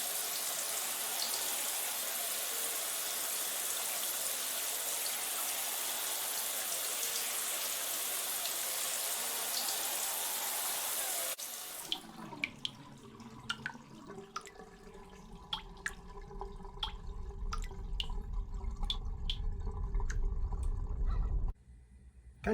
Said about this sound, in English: who could forget the Parasite Eve 2 shower scene?